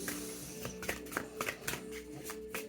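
Lesson cards for a card reading being shuffled, giving a run of sharp, papery flicks and snaps at an uneven rhythm, close and fairly quiet.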